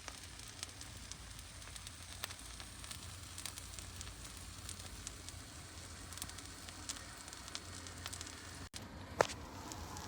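Food sizzles steadily in a pan on a camping stove inside a car during a stealth camping night, a constant close crackle with faint scattered pops and one brief clunk near the end.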